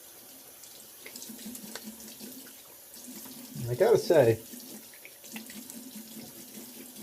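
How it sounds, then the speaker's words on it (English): Water runs from a sink tap as a face is splashed with cold water during a first straight-razor shave, a soft steady flow that briefly swells louder with splashing while someone talks over it. "we'll get a little cold water on the face."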